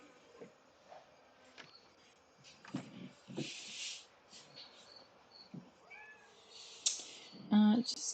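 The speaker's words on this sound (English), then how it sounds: "I think my cat wants out." Domestic cat meowing to be let out, several short meows and cries scattered among faint background noises, fairly close.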